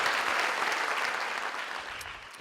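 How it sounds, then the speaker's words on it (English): Audience applause at a city State of the City address, a dense steady wash of clapping that tapers slightly toward the end. "Let's give them a round of applause."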